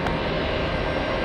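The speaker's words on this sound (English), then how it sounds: "We have the big one, Delta Airlines. A 767 flying in from Copenhagen." Delta Airlines Boeing 767 jet arriving at JFK from Copenhagen, a steady broadband engine roar that holds at an even, fairly loud level throughout with no voices over it.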